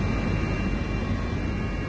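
A helicopter flies over the Bengaluru–Mysuru Expressway during an aerial survey of the national highway, giving a steady, loud rotor and engine drone that holds without a break and with no voices.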